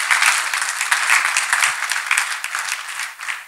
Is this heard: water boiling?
no